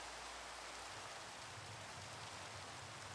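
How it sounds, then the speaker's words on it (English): Steady rain falls in a video game, a soft, even hiss that runs unbroken from start to finish with no voices over it. "try to sleep away the rain"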